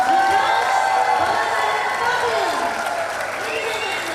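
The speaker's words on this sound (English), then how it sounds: "please put your hands together for a round of applause for the 10-meter air rifle men bronze medal winner" Loud, sustained applause and cheering from a crowd at a 10m air rifle men's World Cup shooting medal ceremony in Bhopal, India, steady clapping with an announcer's voice over it.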